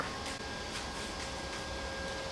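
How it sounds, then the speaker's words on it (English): A steady broadband whir with a faint tonal hum runs continuously throughout, like a robot vacuum working nearby at low volume. "I'm sorry if you can hear the robot vacuum in the background."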